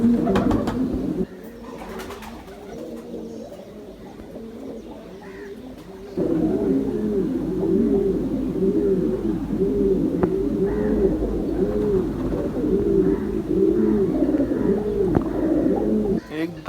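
Teddy pigeons coo in a steady stream of soft, throaty, rolling calls, close and continuous, swelling louder after a brief quieter stretch.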